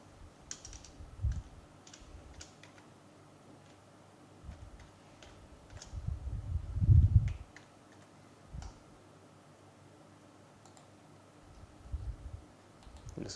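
Scattered keystrokes and clicks on a computer keyboard while an input file for a DFT calculation is typed, close and fairly quiet, in irregular bursts with short pauses and no talking.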